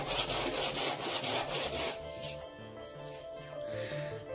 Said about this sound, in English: And then just sandpaper for where the rest needs doing.